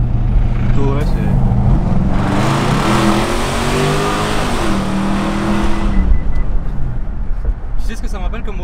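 A car engine revs hard, surging from a steady idle into a loud, rising roar for a few seconds before dropping back, heard close up and dominating the scene.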